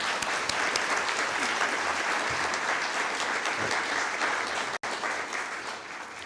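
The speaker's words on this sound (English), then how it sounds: "Please let us give Mr. Chisholm a round of applause for his recognition as a practitioner of distinction" An audience at an alumni awards ceremony claps steadily, a dense, sustained round of applause from a crowd that stays even throughout with one brief dropout near the end.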